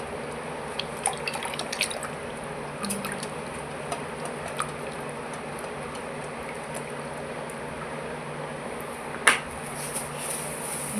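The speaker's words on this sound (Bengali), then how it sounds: "সব কিছুই ধুয়ে দিচ্ছি, গাজর, আলু, ক্যাপসিকাম, বিনস।" Running tap water as carrots, potatoes, capsicum and beans are washed in a kitchen: a soft, steady trickle and splash throughout, with a single sharper clatter near the end.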